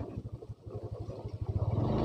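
Motorcycle riding over a bumpy, potholed unpaved stretch of road on a shortcut route, its engine putting out a steady rhythmic thumping with wind noise, rising slightly toward the end.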